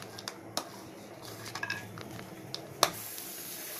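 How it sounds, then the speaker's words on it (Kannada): Cashews dropped into melted ghee in a pan give soft, scattered sizzles and light clinks and stirring taps, with a sharper clatter near the end, all quiet and close with no voices. "ಈಗ ತುಪ್ಪ ಕರಗಿದೆ, ಗೋಡಂಬಿ ಹಾಕೋತಾ ಇದ್ದೀನಿ."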